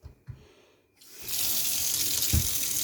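Tap water gushing steadily into a bowl of soapy water for washing console parts, a couple of soft knocks first, then a loud, continuous splashing rush close by.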